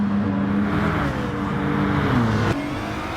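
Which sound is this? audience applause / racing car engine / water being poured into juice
racing car engine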